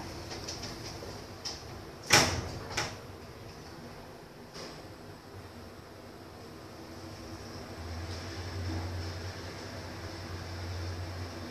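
Schindler 3300 AP elevator doors at a hotel in Bali slide with a sharp clunk and a quick swish, followed by a steady low machine hum as the car moves.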